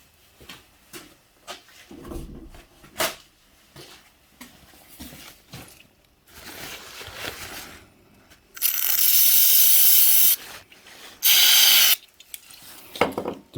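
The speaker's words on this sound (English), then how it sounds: "Let me get a bit of rag and some spray." Aerosol spray hisses onto a rag for cleaning an old tool, in two loud bursts of about two seconds and one second, after a stretch of quiet clicks and handling knocks.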